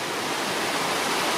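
Water flows over a road near Horseshoe Falls in a steady, full, hissing rush, close and unbroken through a very brief moment, with no voices.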